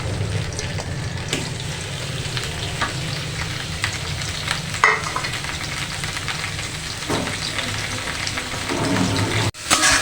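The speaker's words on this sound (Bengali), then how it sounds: "এখন আমি মেখে রাখা চিংড়ি মাছগুলি ভেজে নেব।" Marinated prawns frying in a little oil in a pan, a steady close sizzle with occasional crackles and stirring scrapes running throughout, no voices.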